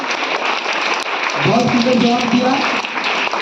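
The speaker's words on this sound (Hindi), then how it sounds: "आप लोग बहुत अच्छे से ताली मारे" Students in a school classroom clap together in a dense, steady round of applause while a teacher speaks over it.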